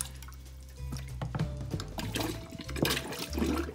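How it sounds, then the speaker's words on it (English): Water gurgles and sloshes close by as a plastic bottle sucks it up from a clogged sink drain, with bubbling pulls and splashes, no talking. "suck the water in, let the water out."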